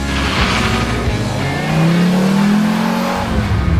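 A high-end Italian supercar engine revs loudly up through the gears, its pitch climbing steadily as the vehicle accelerates close by.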